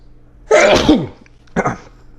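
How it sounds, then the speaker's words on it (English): A loud sneeze bursts out, followed by a second short, sharp exhale a moment later, close to the listener. "That's where I sneeze every chess video."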